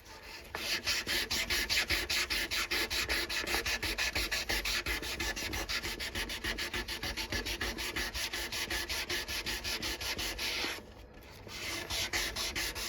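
A knife blade being hand sanded with 400 grit sandpaper: close, rhythmic back-and-forth rasping strokes in a fast steady series with a brief pause near the end, and no talking.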